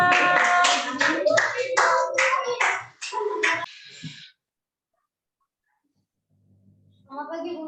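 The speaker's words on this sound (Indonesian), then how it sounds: "tepuk tangan." A class clapping after a student presentation, a brief burst of several hands mixed with voices, fading into silence before talk resumes.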